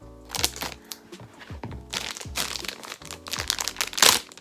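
Plastic packaging of a SHEIN phone case being opened, a series of close crinkling and crackling bursts with short pauses between them.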